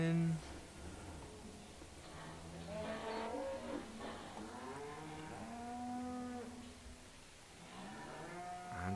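Cows lowing in a barn in Farming Simulator 17, several drawn-out moos rising and falling one after another, with someone talking quietly over them.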